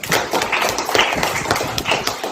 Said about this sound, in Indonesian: Tepuk tangan dulu untuk Leon.